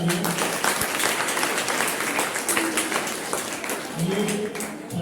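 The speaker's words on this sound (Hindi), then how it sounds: "इन 3 छात्राओं के लिए बहुत जोरदार तालियां" An audience at a college event gives loud, sustained applause for three prize-winning students, with a voice speaking over the clapping.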